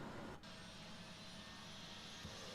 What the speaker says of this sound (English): hear the APU spooling